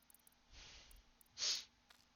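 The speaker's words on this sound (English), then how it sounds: "Sorry, I got the sniffles." A person sniffles twice through the nose, a soft breathy intake followed by a sharper, louder snort-like sniff, close and quiet with no talking.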